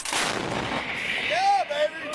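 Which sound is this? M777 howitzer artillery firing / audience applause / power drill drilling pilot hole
M777 howitzer artillery firing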